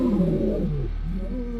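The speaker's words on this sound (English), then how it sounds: "They were loud, they roared." Male lions roar loudly, a deep drawn-out roar followed by a second lower rumbling call, close and alone with no talk.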